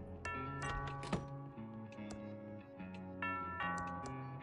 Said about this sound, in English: That sounds like the doorbell.